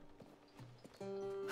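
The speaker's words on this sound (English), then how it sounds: "next up, we have this little horse" A horse's hooves in the video game A Plague Tale Requiem give several soft, separate clip-clop beats, then a steady tonal game sound comes in louder over the last half.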